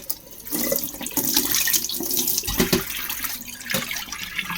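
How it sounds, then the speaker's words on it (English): Cold water runs from a kitchen tap into a bowl for rinsing homemade butter, a steady, fairly loud splashing gush that holds throughout with small surges and no talk. "bring it to the bowl, and then run the cold tap"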